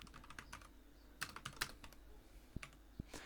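Someone types on a computer keyboard while coding HTML and CSS for a canvas, producing quiet, close key clicks in irregular bursts and single taps over a faint room hum, with no voices.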